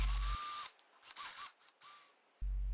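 A power drill boring dowel holes into a board held in a clamped dowel jig: short separate bursts of whirring motor, starting and stopping with near silence between them, close and clear.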